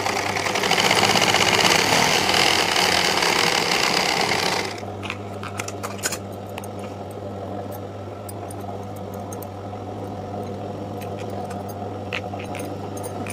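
A sewing machine runs steadily and loudly while stitching a blouse, then cuts to a lower steady hum with scattered small clicks and handling noises for the rest.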